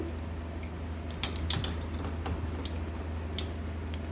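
Sharp scattered pops and crackles of mustard seeds spluttering in hot oil, over a steady low hum.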